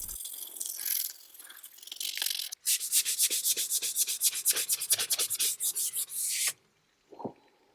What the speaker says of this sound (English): I used high-grade sanding sponge to remove any bits that would stick out and make it smooth.